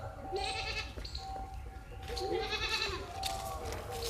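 A goat bleats repeatedly in a rural village setting, the wavering nasal cries coming in several bursts over steady background noise, fairly close and clear with no talking.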